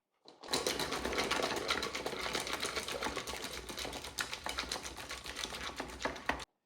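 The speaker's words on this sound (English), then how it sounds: "did you hear how the sound of the eggs changed? It's because the shells were all broken down" Dense, continuous rattling and clicking of eggs shaken in a lidded pan, shells cracking, steady and fairly loud for several seconds.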